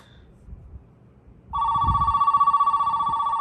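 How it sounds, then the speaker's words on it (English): A vintage AT&T 1813 landline telephone ringer kicks in after a quiet start, a loud, close electronic warble pulsing rapidly and evenly, alone without talk. "I also like the ringer on this phone as well"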